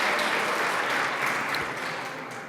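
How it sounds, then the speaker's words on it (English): Steady applause from an audience honoring the police department at a city address, dense clapping filling the room for a couple of seconds and tapering slightly at the end. "So another round of applause for our police department."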